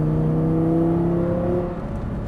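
Audi R8 V10 accelerating on a racetrack, a steady loud engine whine and hum rising in pitch, close and sustained with no talk.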